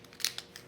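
A quick snip of scissors cutting through hard plastic packaging around a key fob battery for a 2014 Ford Escape, one or two short crisp cuts, close and faint.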